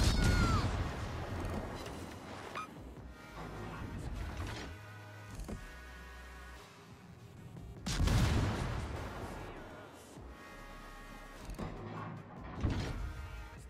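150mm naval guns on the cruiser Elbing fire HE bursts in a warship game, booming salvos that land in a few heavy clusters, with mechanical clanks and a rumble between them.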